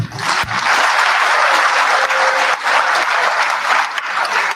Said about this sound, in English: Round of applause for Raila Amolo Odinga.